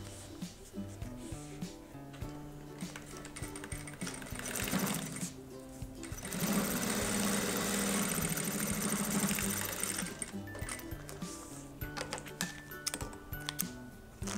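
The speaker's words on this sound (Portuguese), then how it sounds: "Bati a costurinha aqui." A sewing machine stitches bag lining up close, with a steady mechanical whirring and clatter of the needle that rises into a sustained run in the middle and falls back to short bursts and clicks at either end.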